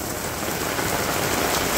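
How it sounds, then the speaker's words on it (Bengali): Steady rain pours down in a Bangladeshi village during the rainy season, a dense continuous hiss of drops striking surfaces, even and fairly loud throughout with no voices. "বৃষ্টি তো নামছে"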